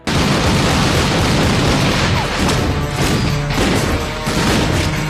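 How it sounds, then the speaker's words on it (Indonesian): A film shootout plays loud and dense, with bursts of gunfire and crashing impacts packed together over a dramatic mix, sustained throughout without pause. "Di sini terjadi adegan tembak-tembakan di mana si ajudan berhasil dilumpuhkan."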